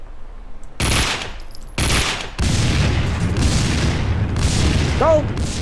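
Loud explosions and bursts of gunfire in the video game Max Payne 2, a few heavy booms followed by sustained rumbling battle noise with no talking.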